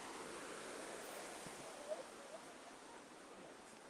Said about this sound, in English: The river's just lovely. Listen to the sound of the water.